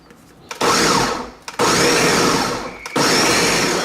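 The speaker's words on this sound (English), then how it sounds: "Put the lid on. Blend till it's smooth." A kitchen blender whirring loudly as it blends an orange bourbon milkshake with ice cream, running in three bursts with brief pauses between them, each starting abruptly at full speed.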